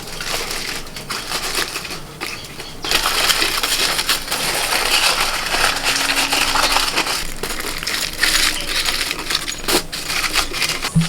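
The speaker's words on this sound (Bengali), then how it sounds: "এটা আমি দিয়ে দিচ্ছি ফয়েল পেপার দিয়ে ভালো করে মুড়ে দিচ্ছি" A biryani pot is sealed with foil paper, giving a continuous loud close crinkling and crumpling that runs throughout, with a few sharper crackles and no talking.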